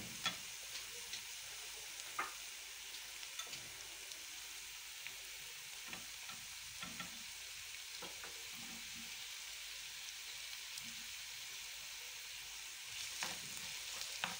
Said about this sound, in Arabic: نخليوها عاوتاني تشحر مزيان